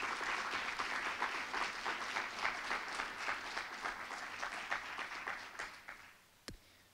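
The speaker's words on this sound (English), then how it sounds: "Let's give Heather one more round of applause." An audience applauds after a symposium keynote, a dense, sustained wash of clapping that gradually thins and fades toward the end, ending with one sharp knock.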